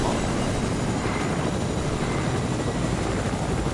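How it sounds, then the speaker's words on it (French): A helicopter in a multiplayer video game, a loud, steady broadband rotor and engine roar, close and continuous with no talk. "Oh, il y a un hélico ici."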